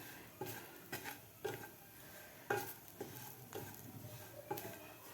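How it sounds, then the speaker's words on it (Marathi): Amchur powder and black salt are stirred and sautéed in a pan for onion kachori filling: repeated scraping and clinks of a spoon against the pan with a soft sizzle, several distinct strokes, fairly quiet. "मसालेसुद्धा आपले व्यवस्थित परतून झाले पाहिजे खालच्या मसाल्यामध्ये"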